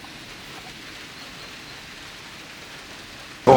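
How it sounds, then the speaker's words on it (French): Heavy rain hisses steadily and evenly throughout, a dense wash of falling water outdoors near a garage where a car engine is being fitted, ending in a sudden loud knock. "il pleut comme vache qui pisse"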